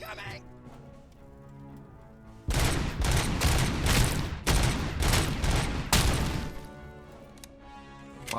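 Gunfire in RoboCop: Rogue City, a loud sustained burst of rapid shots in several close clustered volleys, coming after a quieter stretch and trailing off into softer background sound.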